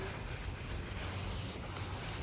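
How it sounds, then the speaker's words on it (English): A spray bottle sprays water onto a microgreens growing kit with a steady, broadband hiss that continues evenly for a couple of seconds, close and fairly loud, with no voices. "After that, you can use the spray can."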